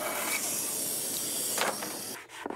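Dried zelkova wood, seasoned for more than three years, being cut into a cutting-board shape: a loud, steady, hissing cutting noise runs close and continuously with no talk, easing briefly near the end.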